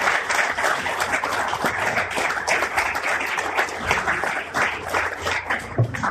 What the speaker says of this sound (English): Join me in giving a round of applause for our panelists.